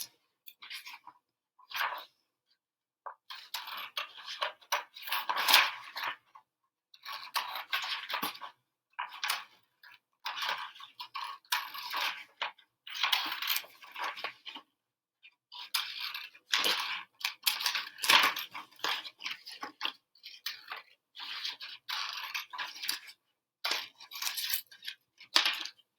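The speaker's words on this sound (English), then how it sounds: "let's go ahead and cut it out and see how well it works." Scissors snipping out a paper net for a triangular prism: crisp, close cutting strokes in repeated short bursts with brief pauses between, no talking.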